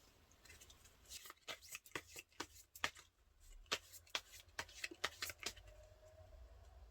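Tarot cards being shuffled and drawn, with quiet, crisp riffling and sharp card snaps in an uneven rhythm, close up with no talking.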